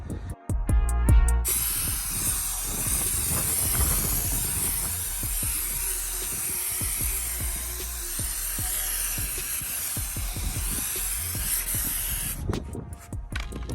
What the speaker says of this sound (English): All right, so I sprayed it. It's got a little bit of foam on there.